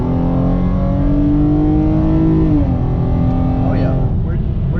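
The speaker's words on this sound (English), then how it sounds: "We'll floor it once we get to the top of the hill at about 55." A Hyundai Genesis Coupe 3.8 pulls at full throttle from about 55 at the top of a hill, engine note rising steadily then dipping at a shift, loud and close from inside the car.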